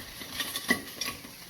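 A spatula stirs cayenne-seasoned fat rendering in a pan, giving a few light scraping clinks and soft sizzle over a quiet background, with small taps spaced across the stretch.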